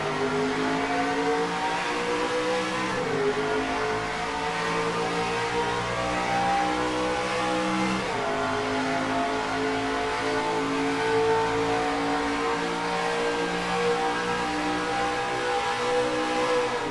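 A field of NASCAR Racing 2003 trucks accelerates together at the green flag in a truck-series playoff race, a dense, continuous roar of revving engines with rising and shifting pitch, loud and close throughout, no voices.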